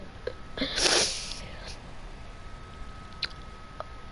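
A person who is ill gives one sharp, close sneeze about a second in, followed by faint mouth and nose noises in a quiet room.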